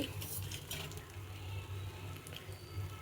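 Jaggery powder tipped into cooked wheat semolina in a pan for halva, with soft clinks and scraping of utensil on pan under a steady low kitchen hum.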